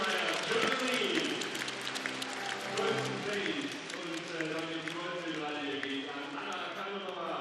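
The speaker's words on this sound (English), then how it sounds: "hear the crowd roar" A crowd at a gymnastics World Cup event final in Cottbus roars and applauds steadily throughout, a dense, loud wash of cheering with a voice audible over it.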